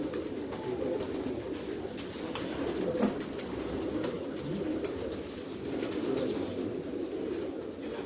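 Pigeons coo steadily on a rooftop, their low murmuring calls layered and continuous, with occasional faint chirps above and a brief flutter near the middle.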